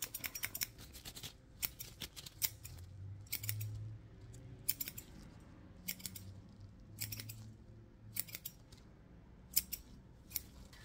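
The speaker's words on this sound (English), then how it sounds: "I'm just going to be cutting a few of the hairs here." Scissors snip hair close up during an ASMR haircut roleplay, quiet crisp clusters of cuts repeating every second or so over soft rustling and handling noise, with no talking.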